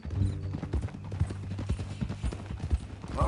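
Horse hooves clip-clop in steady rhythm in the video game Red Dead Redemption 2, a near, evenly paced walking gait with dull thuds and faint tack jingle, with no talk over it.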